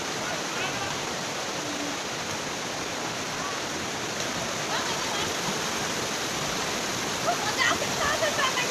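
Kakochang waterfall in Karbi Anglong, Assam, a steady loud roar of falling water that fills the whole clip, with faint voices and splashes near the end.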